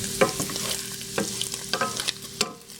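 Pre-cooked Spam browning in a pan for fried rice, with repeated scraping stirs of a utensil over a steady close sizzle. No one speaks.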